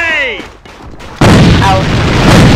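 A grenade goes off in the online shooter AVA: a sudden, loud, sustained blast roars in after a moment of quieter game noise and voice chatter, then holds as heavy rumbling to the end.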